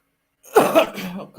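A single harsh cough breaks after a moment of silence, close to the mic, from a person with a chest infection.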